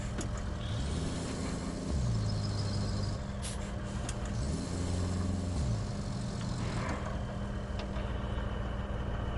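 A heavy truck in the game RoadCraft reverses at a quarry, its engine droning steadily with rising and falling revs, a short hiss like an air brake, and mechanical clunks, with no talking.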